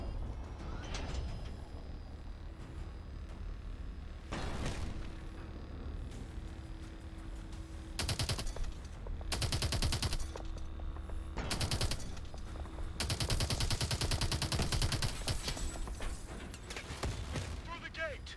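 Rapid automatic gunfire and missile blasts from the video game Call of Duty Advanced Warfare, bursts of heavy fire recurring over a constant rumbling backdrop, moderately loud throughout.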